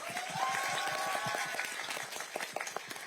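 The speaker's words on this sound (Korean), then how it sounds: "박수 한번 부탁드릴게요" An audience applauds at a film showcase for the crime movie The Roundup: Punishment, a quiet, even wash of many hands clapping through the hall, with faint voices mixed in.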